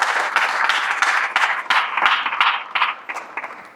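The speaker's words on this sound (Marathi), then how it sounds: "आपण सगळ्यांनी एकदा जोरात टाळ्या वाजून अभिनंदन करायला पाहिजे" Audience applause at a Marathi commemorative speech, called for as loud clapping in congratulation: dense, steady clapping from many hands that stays fairly loud and continuous from start to finish.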